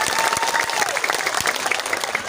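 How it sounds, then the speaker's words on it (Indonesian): A crowd at an Islamic religious gathering with sermon and sholawat in Karang Moncol applauds the organizers: sustained, lively clapping with crowd noise and a faint voice drifting over the top. "Tepuk tangan dulu dong buat panitia yang begitu luar biasa"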